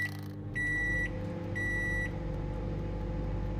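A microwave timer in the Project Zomboid video game gives two steady electronic beeps over a constant low humming drone.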